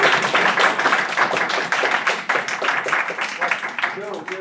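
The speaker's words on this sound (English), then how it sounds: "can we give Charlotte a round of applause?" A small audience at a US Esperanto congress gives a round of applause, uneven claps close by and fairly loud, with talk running over them.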